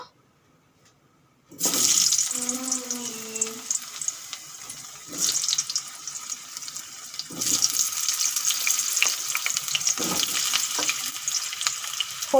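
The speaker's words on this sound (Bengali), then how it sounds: "তেল গরম হয়ে গেছে আলুগুলো ভেজে নেব" Potatoes fry in hot oil in a kadai, a loud, dense sizzle bursting in after a moment of quiet and holding steady with surges of crackle; a faint voice is briefly heard near the start.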